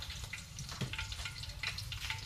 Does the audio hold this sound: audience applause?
no